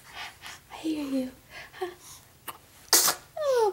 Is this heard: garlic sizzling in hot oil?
no